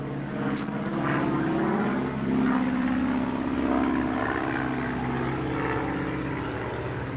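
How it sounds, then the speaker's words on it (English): A propeller airplane drones steadily overhead beside a woodland area, a low continuous engine hum that swells slightly in the middle and holds for several seconds with no talking. "Spy plane going overhead, I think."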